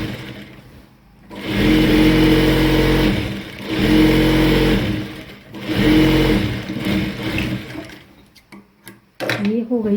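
A domestic sewing machine runs a second line of stitching along a salwar seam in three loud, steady bursts of a few seconds each, with brief pauses between runs and a few handling knocks at the end.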